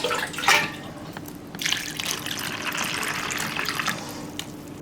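Water pours steadily into a large bowl of soaked kumtiya, a continuous close splashing and trickling with a brief louder gush near the start and no talking over it.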